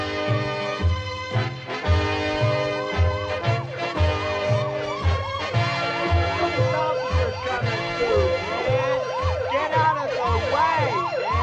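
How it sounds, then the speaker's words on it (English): A police car siren wails in repeated rising and falling sweeps that grow stronger midway, layered over a steady thumping music beat, with no talking. "Can't you hear the siren"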